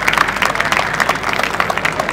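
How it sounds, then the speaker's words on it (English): An outdoor audience at an India Day and South Asian food festival gives the event organisers a dense, steady round of applause, with many hands clapping at once. "can we all give a round of applause for the organisers here today?"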